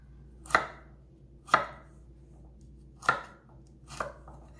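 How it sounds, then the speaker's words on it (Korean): A kitchen knife cuts a carrot into quarters and trims its edges on a board for beef stew, landing four crisp, separate chops at an even, unhurried pace in a quiet room. "4등분 하고 가장자리도 이렇게 정리를 해서 마찬가지로 감자와 비슷한 크기로 준비를 하시면 되겠죠"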